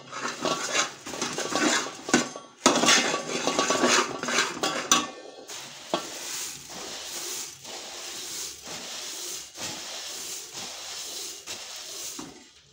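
Puffed rice is stirred into hot jaggery syrup for laddu in a metal pot, producing busy scraping and clattering of a spoon against the pan over a soft hiss, loud at first and then quieter.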